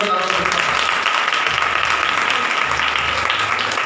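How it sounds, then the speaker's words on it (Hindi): Congregation at a Hindi Bible study claps hands together in dense, steady applause, loud and continuous, with a faint low hum underneath. "ताली बजाकर प्रभु का नाम लेते हैं।"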